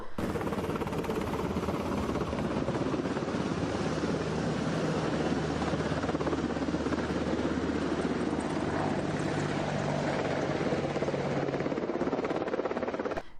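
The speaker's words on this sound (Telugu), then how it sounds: "హెచ్ఏఎల్ రుద్ర యుద్ధం చేయడానికి ఉపయోగించే హెలికాప్టర్" An HAL Rudra attack helicopter thunders continuously and loud, its rotor chop and turbine roar filling the whole stretch without a break and holding steady from start to finish.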